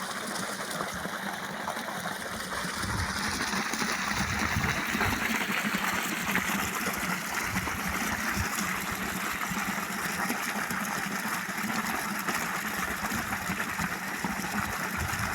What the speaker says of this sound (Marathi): गढूळ पाणी निघत आहे